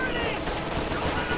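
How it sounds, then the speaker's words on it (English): Machine-gun fire in Company of Heroes crackles in a short, dense burst of rapid shots, a steady rattle under busy battle noise. "he is suppressed by the MG over here"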